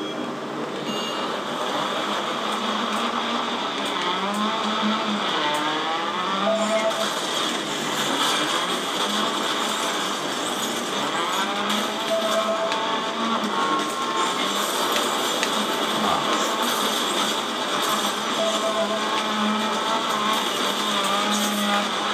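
A Volkswagen Scirocco racing engine drones in Driver: San Francisco multiplayer gameplay, a continuous, fairly loud hum that rises and falls gently as the car speeds through a race.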